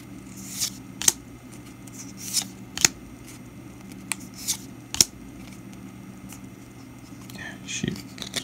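Trading cards from a Cardfight Vanguard extra booster box are shuffled and flicked through by hand, producing a series of crisp, close snaps and riffles at irregular intervals, with a low hum and soft breathy speech underneath.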